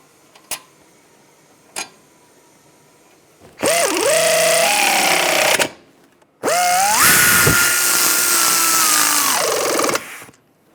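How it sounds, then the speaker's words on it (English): A power tool runs bolts into a front brake caliper bracket on a 2006-2009 Mercedes-Benz E350, two sharp clicks followed by two long, loud whirring bursts that rise in pitch at the start. "Take these bolts, get these bolts started."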